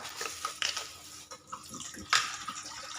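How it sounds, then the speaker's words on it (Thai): Water splashes and trickles into a container in short irregular pours, close and fairly quiet, with small clinks. "เทน้ำเปล่าลงในภาชนะแบบนี้"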